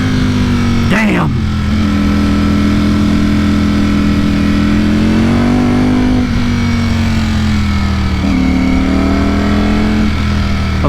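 A loud Ducati Streetfighter V4S sport motorcycle engine drones and climbs in pitch as it accelerates on twisty mountain roads, with gear shifts, wind roar, and a voice shouting briefly over it.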